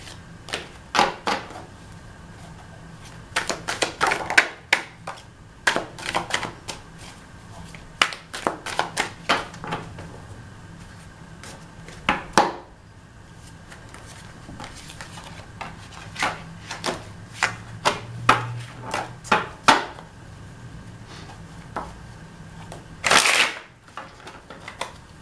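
Aquarian tarot card deck being shuffled, with quick bursts of crisp card riffling and snapping, some clustered, others spaced out, plus a few soft handling taps in a quiet room.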